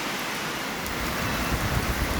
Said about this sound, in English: there's a bit of rain coming down